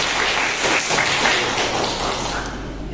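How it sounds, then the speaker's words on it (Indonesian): Audience applause at an interfaith gathering of young religious figures in a church hall, honoring Romo Putut Prabantoro; steady, dense clapping that fills the room for about three seconds with no gaps. "Kita berikan aplaus kepada beliau"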